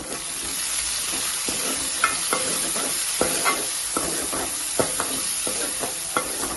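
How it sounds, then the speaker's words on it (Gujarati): Tomato, onion, garlic and green chili sizzle steadily in a pan for a Kathiyawadi meal, while a spoon stirs them in repeated scrapes and taps against the metal over a constant frying hiss, close and alone. "બધું સારી રીતે હલાવી લઈશું અને ટામેટાને સંતળવા દઈશું।"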